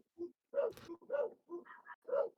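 Neighbourhood dogs bark in quick succession, one big deep-voiced dog and one tiny yappy one, several short separate barks and yips over about two seconds, fairly close and clear.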